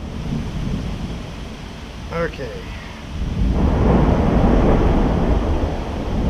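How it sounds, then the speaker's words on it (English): Thunder from a passing storm rolls as a deep, loud rumble that swells in the second half, with rain and wind noise underneath and someone briefly speaking partway through. "And we got a good storm coming through right now too."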